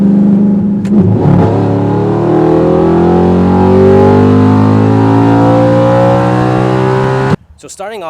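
An Audi R8 V8 revs hard up close, sweeping up after a brief blip and holding a rising, gurgling roar for several seconds before cutting off abruptly, with a voice just after.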